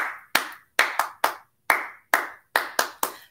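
Hands clap in a lively irregular rhythm, about ten sharp claps close by with brief silences between, during a children's circle-time song.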